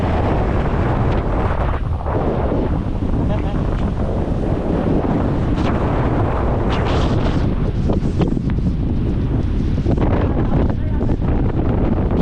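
Powerful typhoon gusts batter the microphone in a constant loud roar, with faint voices partly buried beneath the wind.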